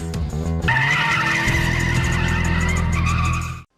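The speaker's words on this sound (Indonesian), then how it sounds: "There's a car coming. It's the 86!" A Toyota AE86 racing car in the film Initial D arrives with a loud, close engine roar, then breaks into a long, sustained tire squeal as it skids, ending abruptly in silence.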